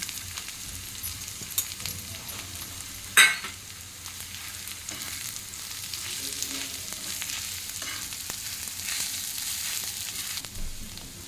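Onion frying in a pan for a village-style kanda thecha: a steady hissing sizzle runs throughout, broken by one sharp clack of a utensil early on and occasional faint stirs, no talk.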